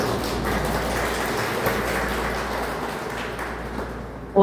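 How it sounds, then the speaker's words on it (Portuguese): Live audience at a spiritist centre event clapping steadily, a dense even patter of applause sustained throughout at moderate distance, with no speech over it. "palmas para ele"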